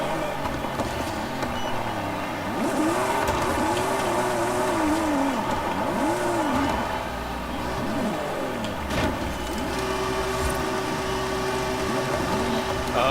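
A Dodge Hellcat revs at a drag strip in a video game, its engine note rising and falling in repeated sweeping revs over a steady drone before settling into an even tone, with no one speaking over it.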